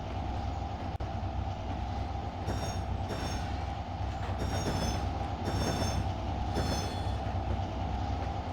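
A train rolls steadily past in the Trainz Railroad Simulator 2022 video game, with continuous wheel rumble and rail clatter, plus brief high metallic squeals now and then, close and constant throughout.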